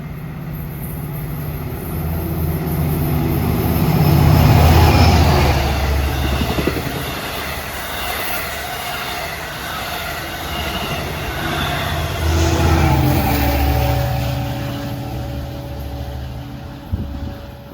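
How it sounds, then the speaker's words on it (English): An LIRR dual-mode train, number 613, runs from Port Jefferson to Penn Station and approaches New Hyde Park station at morning rush hour. It gives a loud, sustained rumble of wheels and engine that swells twice, with squealing rails and no talk. "Approaching is train 613, the dual mode train from Port Jefferson to Penn Station."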